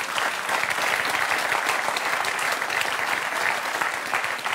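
Steady, dense applause from an audience fills the whole stretch, loud and continuous with no pauses, a few scattered voices faintly mixed in.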